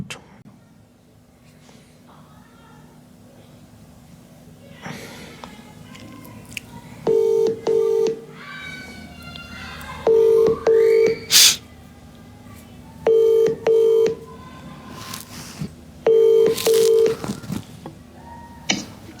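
Telephone keypad dialing tones in short paired bursts, loud and regular, repeating about every three seconds over a low background hum.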